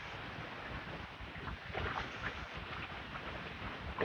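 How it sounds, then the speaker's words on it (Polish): Strong wind outdoors buffeting the microphone, a continuous low, rough roar with gusty swells, fairly faint and with no one talking. "Wielki wiatr"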